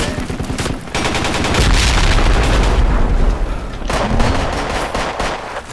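Combat noise in the video game Project Reality on the Kashan Desert map, with a grenade explosion: a loud, sustained roar of gunfire and booms filling most of the stretch, dipping briefly before resuming.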